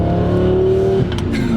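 A twin-turbo Lamborghini Gallardo's engine drones loudly and steadily under hard acceleration, then briefly dips at a gear change before pulling again, heard from inside the car.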